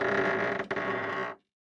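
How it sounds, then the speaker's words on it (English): A door creaks open in a story sound effect, a single close, loud, drawn-out groaning creak with a brief catch midway that stops abruptly into silence. "Nathan opened the door."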